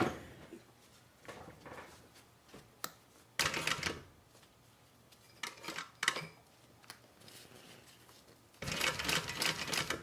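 A sewing machine stitches a thigh bag in bursts of fast, rattling needle strokes, stopping and starting with quiet handling noises between runs.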